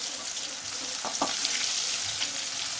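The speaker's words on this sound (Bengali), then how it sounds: "আর বাকি সবজিগুলো আমি একটু বেশি তেল দিয়ে নেড়ে নেড়ে ভেজে নেব।" Mixed vegetables for Bengali shukto frying in plenty of oil while being stirred, a steady close sizzle with a few brief spoon scrapes.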